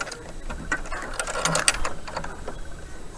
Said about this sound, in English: So I'll sew like this.